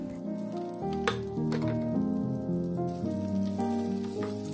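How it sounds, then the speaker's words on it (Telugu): Mustard seeds and crushed garlic fry in two to three spoons of hot oil for a ridge gourd and chana dal dish, giving a continuous close sizzle with light popping beneath tonal background music. "ఒక 2-3 స్పూన్ల ఆయిలే వేసాను. అలాగే ఆవాలు, వెల్లుల్లి జస్ట్ క్రష్ చేసి వేసాను."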